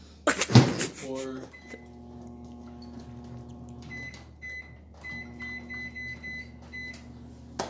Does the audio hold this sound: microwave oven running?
yes